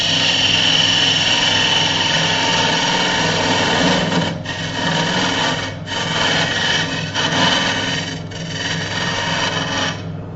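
A metal-lathe bit ground to a round fingernail shape takes a light cut on a turned bird feeder part, giving a steady rubbing, scraping whir with several brief dips in level.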